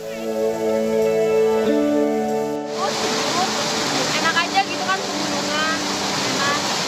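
A sustained musical tone fades into the loud, continuous roar of a waterfall's rushing, falling water that fills the rest of the clip.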